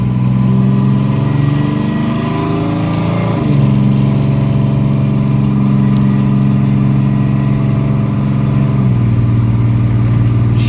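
A 1982 Chevy S10 pickup with a 2.8 V6 engine, driving with a loud, continuous mid-pitched engine drone that shifts pitch with gear changes, recorded up close with no talk.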